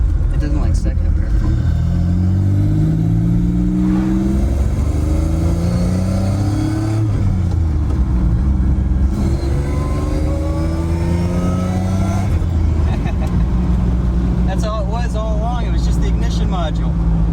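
A 1986 Pontiac Fiero fitted with a swapped supercharged 3800 V6 drives on the road, its engine droning loud and close, pitch climbing and falling through the gears, with a voice talking over the cabin noise.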